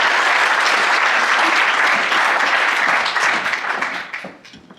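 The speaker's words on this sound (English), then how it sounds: "So a big round of applause for EVMatch" An audience claps for a startup team's pitch at a Berkeley competition evening, a full round of close applause that holds steady before tapering off over the last second.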